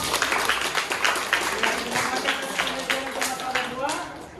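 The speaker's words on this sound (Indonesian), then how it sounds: "Oke, tepuk tangan untuk kelompok 2" A classroom group claps for the second presenting team, a dense patter of many hands with voices murmuring underneath throughout.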